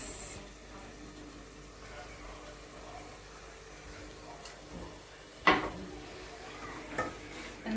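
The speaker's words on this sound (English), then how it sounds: "And then mix well." A spoon stirs groundnut sauce in a pot with soft scraping and rubbing, then a few sharper clinks near the end, all at a low level in a quiet kitchen.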